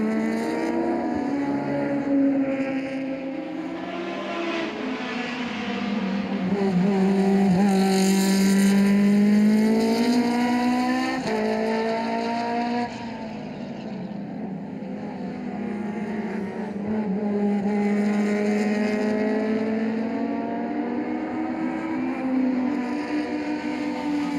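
Historic race cars circle the Hungaroring circuit in Budapest during the 2017 Hungaroring Classic, with a sustained engine roar that swells and fades as the cars pass at varying distances.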